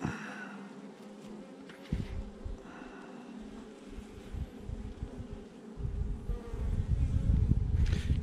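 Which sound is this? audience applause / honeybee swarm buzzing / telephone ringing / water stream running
honeybee swarm buzzing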